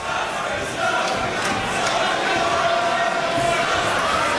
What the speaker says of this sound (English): And the crowd here at the Bottle Macron chanting and singing.